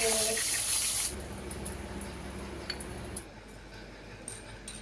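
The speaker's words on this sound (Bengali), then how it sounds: "লাল লাল করে বোয়াল মাছটা ভেজে নেব" Boal fish frying in hot oil opens with a loud, bright sizzling hiss for about a second, then settles into a quieter, steady crackle with scattered pops.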